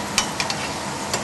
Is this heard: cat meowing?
no